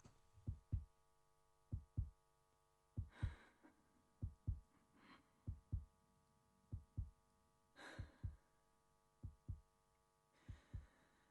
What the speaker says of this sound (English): Heartbeat sound. Maybe like a mic tap or something.